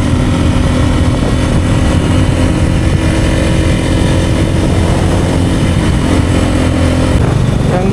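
A motorcycle rides along the Mumbai-Goa highway, its engine droning steadily and loudly with dense road and wind rush that barely changes for the whole stretch.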